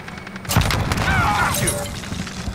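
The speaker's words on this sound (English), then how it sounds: "Throwing grenade!" A grenade explosion in Modern Warfare 2019 lands as a single heavy boom, then a rumbling, debris-filled tail with faint game sounds, with no voices.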